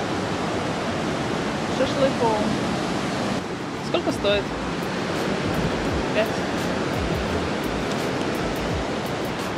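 A strong river rushes near Mostar, Bosnia, a steady broadband roar of flowing water heard close and continuous while people talk briefly over it.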